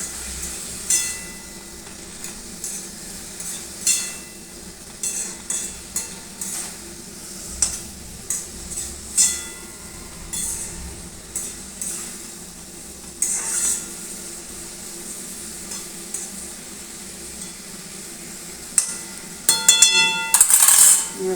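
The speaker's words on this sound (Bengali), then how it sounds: "এবারে আমি মশলাটাকে ভালো করে কষাচ্ছি, বেগুনটাকে ভালো করে কষাচ্ছি।" Eggplant being stir-fried with cumin and coriander powder in a pan, with scattered scraping and tapping of a spatula over a faint sizzle, irregular clinks recurring throughout at moderate, close range.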